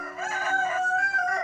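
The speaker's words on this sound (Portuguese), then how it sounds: "eu estou numa linda granja cercado por galinhas" A rooster crows loudly and close on a farm, one long drawn-out call with bright harmonic tones, alone with no talk over it.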